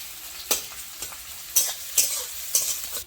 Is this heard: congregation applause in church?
no